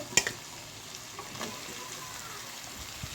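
Chopped carrot and capsicum hit a hot pan while cooking a chicken dish, giving a brief crackle at first, then a soft, steady frying sizzle that stays fairly faint throughout.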